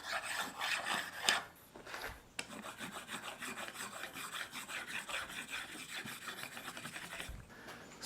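Chalk rubbed back and forth over a planed wood board, a steady close rasping scrape with brief pauses, alone without talk.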